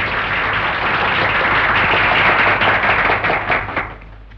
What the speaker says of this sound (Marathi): अरे टाळ्या वाजवा की.